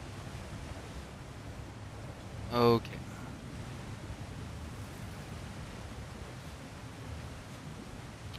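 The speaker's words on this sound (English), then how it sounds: "That overflowing water is powering the train." Overflowing waterfall water in God of War Ragnarök gives a steady, low rushing wash that fills the background, with one brief brighter blip partway through and a single short word spoken.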